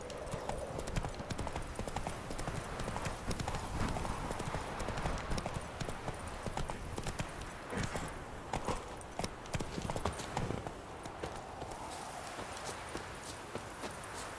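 Roach, the horse in The Witcher 3: Wild Hunt, gallops with steady, rapid clip-clop hoofbeats. The hooves stay close and continuous, with faint ambient game sound beneath.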